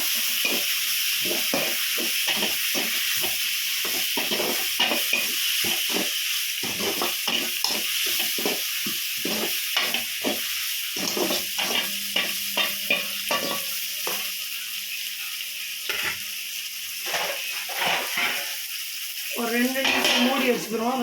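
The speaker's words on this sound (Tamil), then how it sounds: "ரெண்டு தக்காளி பழம் அதை நல்லா கிண்ணி வதக்கிக்கோங்க" Two large tomatoes sautéing in a pan for a rasam, with a steady frying hiss and sizzle broken by frequent scraping and stirring strokes of a spoon against the pan, close up and fairly loud.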